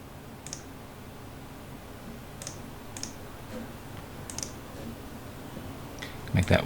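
Computer mouse clicks while customizing a WordPress login page: four or five sparse, faint, sharp clicks spread across a quiet room background.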